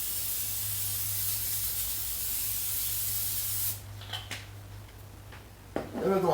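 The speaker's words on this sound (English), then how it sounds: "we want to spray the pan so it doesn't stick" A long continuous hiss of cooking spray for several seconds, then it stops, followed by a few light clatters and the start of a voice.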